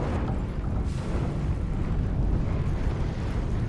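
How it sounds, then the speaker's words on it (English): A Thunderous Smite spell lands in Baldur's Gate 3 as a dense, rumbling boom that swells and rolls on continuously, a heavy low roar with no voices over it. "Thunderous Smite."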